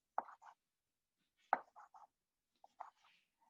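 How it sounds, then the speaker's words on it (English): A sharp kitchen knife chops tomatoes on a cutting board during home cooking: three quick bursts of crisp taps, each a firm strike followed by two lighter ones, close and clear against near silence. "I'm just chopping my onions. I'm sorry, my tomatoes."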